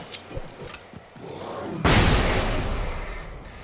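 A flashbang in the Alan Wake video game goes off with a sudden loud burst, after a few faint knocks, and then fades slowly into a long, broad roar.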